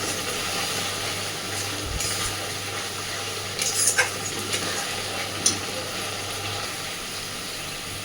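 Spices sautéing in oil for a dhaba-style chicken curry over a medium gas flame, a steady low sizzle with a few clinks of a stirring utensil against the pan, continuous and fairly close.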